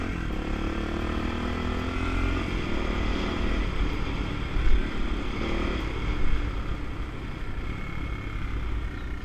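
A restored Honda XR200RC motorcycle cruises at steady moderate speed, its engine droning continuously and close with slight rises and dips throughout.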